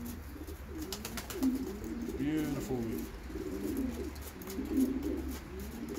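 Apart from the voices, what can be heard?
pigeon cooing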